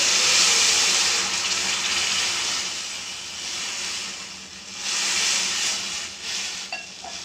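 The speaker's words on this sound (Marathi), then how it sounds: "गॅसवर कढई ठेवली आहे आणि त्याच्यामध्ये 1 ग्लास पाणी टाकते." A glass of water is poured into a kadhai set on a lit gas stove while alu vadi is being cooked, giving a steady hissing splash that fades and returns in bursts, with a faint clink at the end.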